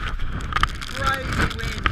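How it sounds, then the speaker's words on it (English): Strong wind buffets the microphone at Sugarloaf Point Lighthouse near Seal Rocks, a loud, rough, continuous rumble. A voice breaks through briefly. "So the wind up here is just phenomenal."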